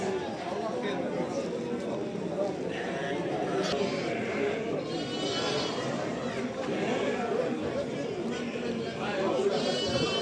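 Sheep bleat amid a busy livestock market in Ganja, Azerbaijan, their calls rising now and then over a constant crowd murmur and nearby people talking.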